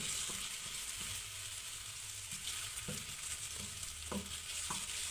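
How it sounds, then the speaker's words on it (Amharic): Food frying in a little oil in a pan, cooked until browned: an even, close hiss and sizzle continues throughout, with a few soft stirring knocks, and no talking. "ከዛ በዘይቱ ጥብስ አረጋዋለሁ በደንብ እልት ቤት ብራውኒ እስከሚሆን ድረስ"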